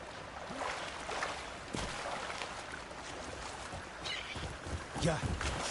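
A character swimming through deep water in the video game Crimson Desert: soft sloshing and splashing strokes, with a few louder splashes, over a quiet watery wash and a faint murmur of voices.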